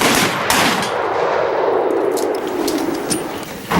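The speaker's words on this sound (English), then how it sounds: "Shooters, lock and load your firearms." A loud rifle volley cracks out at a ceremony, a single sharp burst that rolls away into a long echoing decay outdoors, with no talking over it.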